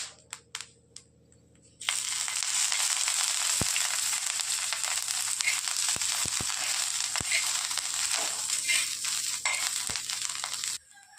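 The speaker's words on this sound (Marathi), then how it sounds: "हे बघा आपली मिरची छानसं भाजून झाली" Green chilies roast in a little oil in a pan, starting after a few short knocks and then running as a steady, bright sizzle with sharp pops and crackles before stopping abruptly.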